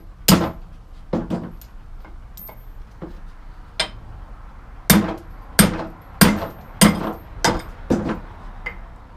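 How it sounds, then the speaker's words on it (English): Sharp metallic hammer blows knocking out wheel studs ring out in irregular bursts, some single and some in quick pairs, loud and close in a quiet space. "let me get a hammer, start popping those out"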